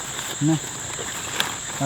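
Crickets chirp at night beside a village lake in a steady high-pitched drone, with a couple of faint brief vocal sounds over it.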